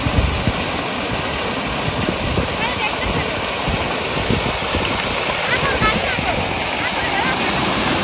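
Rushing water from a village water mill (gharat), a steady broadband roar close by, with voices faintly audible over it.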